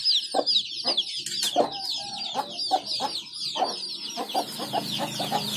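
Chickens in a poultry shed where the birds look pale and are off their feed, clucking and squawking in short repeated bursts close by, with a steady bed of high chirping from many chicks behind them.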